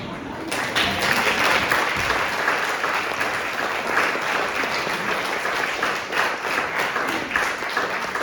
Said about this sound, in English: give me another round of applause, please